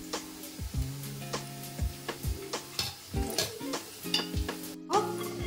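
Browned onions frying in a pan for chicken biryani, with a steady sizzle under repeated scraping stir strokes and a few spoon taps against the pan, close and moderately loud, with no talking.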